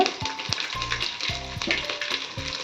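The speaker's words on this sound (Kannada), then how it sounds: "ಇದು ಪಟ ಸಿಡುತ್ತಾ ಇರುವಾಗ ನಾವು ಅದಕ್ಕೆ ಬೆಳ್ಳುಳ್ಳಿ ಹಾಕೋಣ" Mustard seeds splutter and chopped garlic fries in hot oil: a steady close sizzle broken by sharp popping crackles and a few low clattery knocks of a utensil against the pan.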